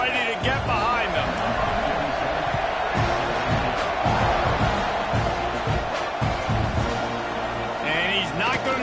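A large football stadium crowd roars steadily just before a kickoff, a dense, loud wall of cheering and noise filling the whole stretch without letup, with announcer talk mixed in.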